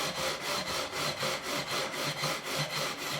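Guitar frets on a Korean-made Squier Stratocaster are sanded level with 240 grit paper, a close, steady back-and-forth scraping in quick regular strokes, about three per second.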